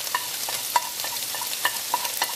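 Lamb in a hot pan with Kashmiri chili powder being stirred in, soft steady frying hiss with a series of light scraping stir clicks, fairly quiet and close, no voices.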